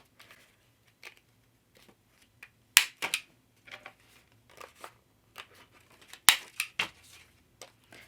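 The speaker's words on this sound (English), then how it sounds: "I'm going to round all my corners real fast" A corner rounder punch rounds the corners of a paper tag in a run of small, sharp clicks and snips. The cuts are spaced irregularly, a few land harder than the rest, and the sound is close with no voices.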